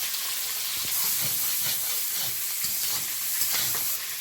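Chopped onion and prawns fry in oil in a kadai, a continuous crackling sizzle with scraping stirs, close and fairly loud, no voices.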